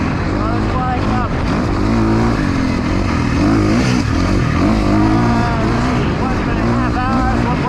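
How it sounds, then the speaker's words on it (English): A KTM dirt bike engine, warmed up on a cold frosty day, revs loudly and continuously, rising and falling close by with no pause. "Run this bike up."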